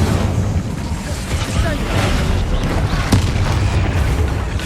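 Incendio fire spell from the Hogwarts Legacy video game, a continuous loud roaring whoosh of flames with booming impacts, dense and close throughout with a voice mixed in underneath.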